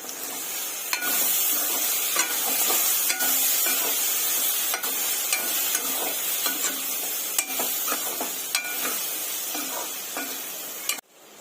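Brinjal pieces fry with turmeric in a pan while a spoon stirs them. A steady close sizzle runs throughout, broken by repeated scraping strokes against the pan and a few sharp knocks. No one speaks.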